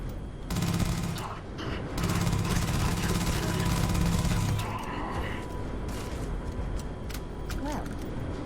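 Sustained rapid gunfire from a gun in the game Starfield, heavy and close for several seconds, then easing into scattered shots and rumbling background noise.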